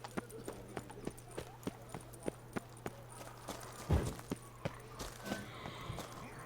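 Horse hooves clip-clop at a steady, even pace in The Witcher 3, with a string of sharp, regular footfalls over a low droning ambience and a brief louder rustle near the middle.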